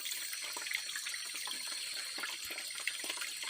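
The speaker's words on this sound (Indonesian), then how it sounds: "Jadi setelah timba ini penuh airnya, nanti akan saya coba masukkan ke dalam jerigen." Clear spring water in a forest runs steadily into a bucket with a soft, continuous splashing and trickling close by, and no voices are heard.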